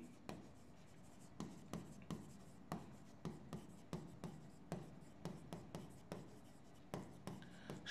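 Chalk or a marker writes on a board during a chemistry lecture, making a quiet, regular series of short taps and scratches that carries on steadily without any voice.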